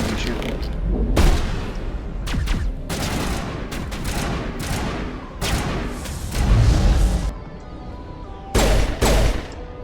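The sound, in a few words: gunfire in the video game Mass Effect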